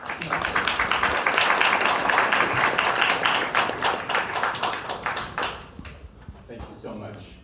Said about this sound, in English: Please join me in giving Dr. Achen a warm welcome of applause.